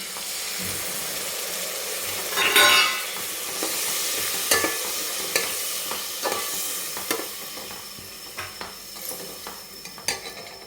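Yogurt being stirred into sizzling masala for dhaba-style egg biryani, with steady frying hiss and scattered, fairly close scrapes and clinks of a spoon against the pan, one louder stirring burst early on.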